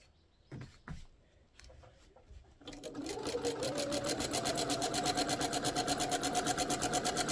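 A sewing machine doing free motion quilting, preceded by a few soft clicks and handling knocks, then running steadily with a fast, even stitching rhythm close by.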